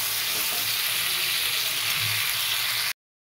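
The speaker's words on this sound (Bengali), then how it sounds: "এবার ফুলকপি আলু ভেজে রেখেছিলাম, সেটা ঢেলে দিলাম। ঢেলে দিয়ে ভালো করে কষাতে হবে।" Cauliflower and potatoes, fried earlier, sizzle as they are sautéed with spices in hot oil for a cauliflower-potato dalna, a steady close frying hiss with light stirring that cuts off abruptly near the end.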